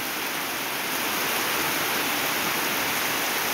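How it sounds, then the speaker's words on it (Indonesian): Steady, heavy rain falls on a village, a dense and even hiss that stays loud and unbroken throughout with no voices. "yang ingin melihat suasana kampung di waktu hujan"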